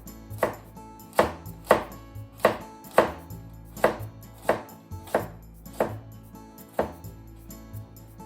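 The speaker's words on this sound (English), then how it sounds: "But today I'm cutting it into strips." A knife chops vegetables into strips on a cutting board for veggie and sausage miso soup, about a dozen evenly spaced, crisp thuds close by with no talk.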